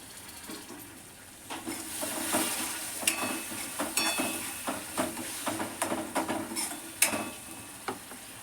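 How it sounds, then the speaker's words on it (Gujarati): Spice masala with tomatoes sizzles as it fries in a pan, a steady hiss broken by repeated spoon scrapes and clinks against the metal, close and moderately loud with no talking. "આપણે બધા મસાલાને થોડીવાર ફ્રાય થવા દઈશું"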